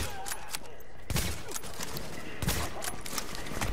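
AK-47 gunfire in the shooter game The Division, a steady run of rapid, cracking automatic shots with a few heavier bursts standing out above a busy combat background.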